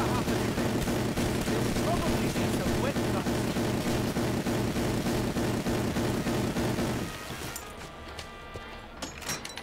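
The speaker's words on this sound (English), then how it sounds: "I can't hear myself think over this gun!" Loud, dense automatic gunfire from Black Ops 4 pours out continuously for about seven seconds, then drops away to quieter scattered noise with a few faint pops.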